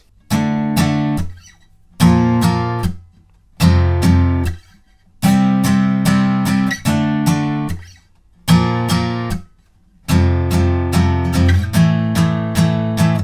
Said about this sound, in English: So the bridge will sound like this.